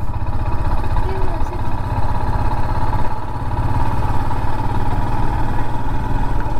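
A motorcycle idles with a steady, close, low-pitched throb, its engine note holding even throughout, near Dholavira in the Rann of Kutch.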